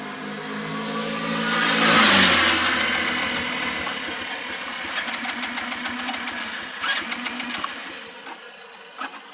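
A four-wheeled ATV quad bike being ridden in Gangwon Province, its engine swelling to a loud revving peak and then settling into a steadier drone, with clatter and knocking toward the end.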